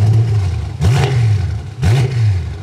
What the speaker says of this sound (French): Allez, un petit coup de gaz. Pas trop fort.